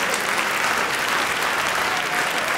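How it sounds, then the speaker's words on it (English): A crowd claps loudly and continuously at a children's awards ceremony, a dense, even wash of applause from a full audience with no break and no talk. "That deserves a round of applause"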